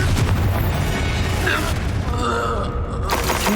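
In the Hogwarts Legacy video game, the Confringo blasting curse explodes with a loud, deep boom. The blast rolls over a dense, continuous bed of game noise, and voices can be heard in the mix.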